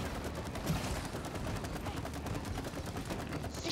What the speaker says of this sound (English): Shooting while jumping.